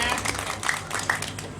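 An audience claps for pencak silat performers at an outdoor cultural show, a brief patter of scattered hand claps heard at a modest distance amid crowd noise.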